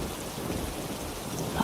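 Steady rain falling on a surface, soft and even with no distinct drops, at a low level without speech.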